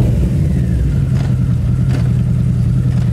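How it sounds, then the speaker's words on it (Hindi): A motorbike engine revs loudly on a studio stage, a steady low rumble filling the whole clip with no voices over it. "आवाज इस बाइक की जब दिल पे जाके लगती है भाई"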